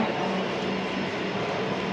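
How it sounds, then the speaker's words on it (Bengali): A Dhaka metro rail train gives a steady, loud, broadband rumble and whoosh from close by, with no distinct clatter, and nobody speaks. "এখন এটা হচ্ছে আমাদের ট্রেন ছিল"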